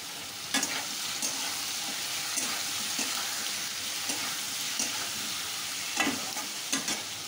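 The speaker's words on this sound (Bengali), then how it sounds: "এবার ভালো করে এটাকে নেড়ে নেড়ে ভালো করে আলুটাকে লাল লাল করে" Potatoes frying with salt, turmeric and Kashmiri chilli in a pan, a steady close sizzle with repeated scraping strokes as they are stirred and turned.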